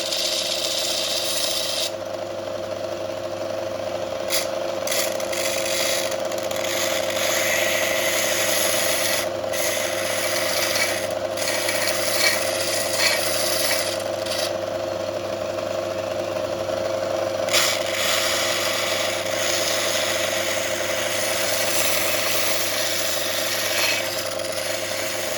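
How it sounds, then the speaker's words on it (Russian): A belt grinder runs continuously while a screwdriver, chisel and cold chisel are sharpened against the belt, making a steady mechanical drone with a rattling, whirring texture and occasional brief shifts in the grinding. "Включаем гриндер и поехали."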